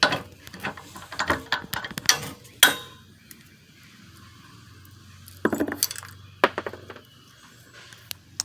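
Metal clinks and ratcheting clicks from a bolt being fitted to hold a push bar on a new Ford Edge, scattered sharp knocks with a quieter pause in the middle, close by.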